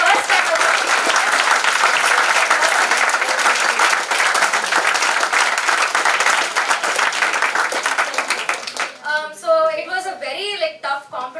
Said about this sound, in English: can I get a round of applause for my vice chair?